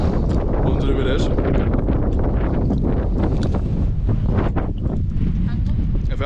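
Strong wind buffets the microphone on a Lake District hillside near Elterwater, a loud, continuous roaring rush with gusty bursts throughout.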